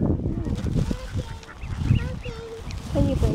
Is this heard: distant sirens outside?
no